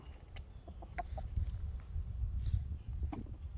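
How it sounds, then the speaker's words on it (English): A rooster and a hen in a backyard vegetable garden give soft, scattered clucks and small calls, low and intermittent over rustling ground noise, with no speech. "There's our rooster Stew and our hen Penelope hanging out"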